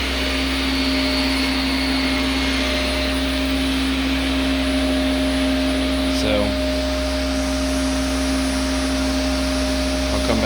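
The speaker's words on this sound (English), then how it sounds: "I know I vacuum this area quite a bit, but I'm just being extra cautious considering the condition it's in." A Shark vacuum cleaner runs steadily over a dirty carpet, a loud, close, continuous motor whine with a brief bump partway through and a few faint spoken words.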